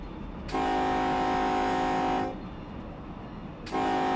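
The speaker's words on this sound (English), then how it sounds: "here's the next whistle" Train whistle in the Run 8 Train Simulator game, a loud, steady multi-tone horn blast lasting nearly two seconds, then a pause of quieter rumble before another blast begins, no talking.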